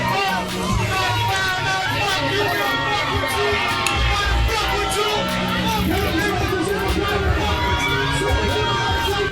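Dense concert crowd roaring and shouting without a break, a loud mass of voices with children-like yells and cheering mixed in, close and continuous throughout.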